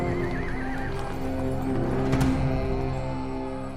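Armored cavalry horses neigh in a wavering whinny near the start while hooves clip-clop and battle noise builds, a crowded, loud scene with no speech.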